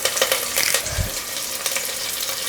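Onions and curry leaves sizzling in hot oil in a pan, a steady close frying hiss with a few stirring scrapes and a soft low thump near the middle.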